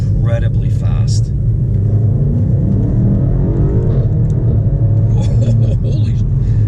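A BMW M5 Competition with all-wheel drive accelerates hard, a loud, steady low engine rumble heard from inside the cabin, with a person talking over it.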